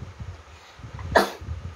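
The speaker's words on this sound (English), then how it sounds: "Another sneeze." A single sharp human sneeze bursts out close and loud, standing alone over a quiet background with low murmuring noise.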